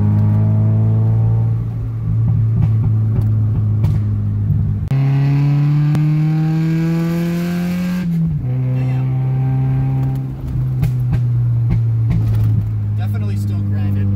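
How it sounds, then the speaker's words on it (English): Car with a 6-speed manual transmission driving after a transmission service and oil change, a loud steady engine hum that rises in pitch through the gears and drops at each shift, with someone talking over it. "Car's running and driving excellent after the transmission service as well as the oil change"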